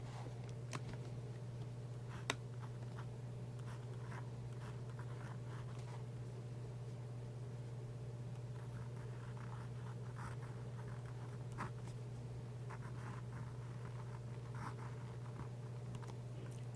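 A fountain pen with a flex nib scratches across paper, faint close strokes in a steady irregular rhythm over a constant low hum, with no talking.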